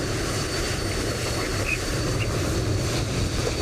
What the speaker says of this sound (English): coming in from Munich with a noisy private jet